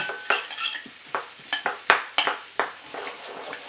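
Thinly sliced onions sautéing in a pan for a lobster curry, a steady close sizzle broken by about a dozen sharp scrapes and clinks of a utensil stirring against the pan.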